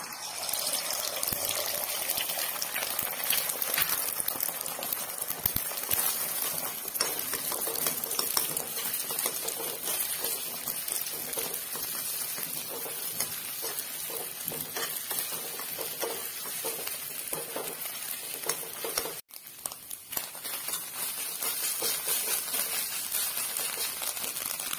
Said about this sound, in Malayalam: അപ്പോൾ ഇനി നേരത്തെ മാറ്റി വെച്ച മുട്ട ഇതിലൊന്ന് പൊരിച്ച് എടുക്കാം